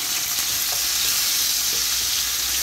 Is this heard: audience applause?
no